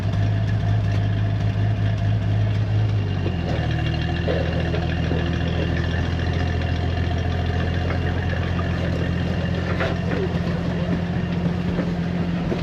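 A snowcat's engine runs at a steady, loud, close idle with a deep droning hum, and its pitch shifts once early on before holding constant.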